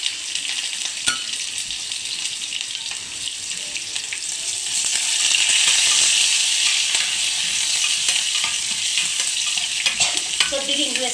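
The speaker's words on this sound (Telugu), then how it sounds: "చారు తాలింపు అయితే పెట్టేసుకుంటున్నాను." Spices tempering in hot oil for rasam, a South Indian soup, sizzle steadily with occasional stirring clinks from a spoon in the pan, loud and close, swelling midway and with no talk over it.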